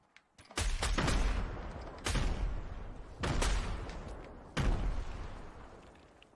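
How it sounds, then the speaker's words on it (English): Four heavy sniper shots boom out one after another in a Fortnite match, each a loud, close blast with a long rolling tail, spaced about a second apart. "I'm getting sniped at"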